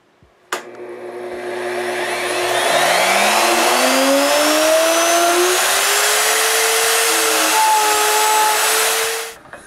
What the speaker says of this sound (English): The base for my panther ruler and the slot mortising machine is mobile